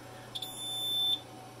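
An AICO Radiolink smoke detector alarm sounds during a test for a caravan, a short chirp followed by a piercing steady tone lasting under a second, close and clear.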